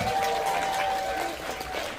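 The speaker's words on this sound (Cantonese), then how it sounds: "俾啲掌聲 Micky 先" Wedding guests give the bride a round of applause at a reception. The clapping is dense and moderately loud, with a faint tone held beneath it.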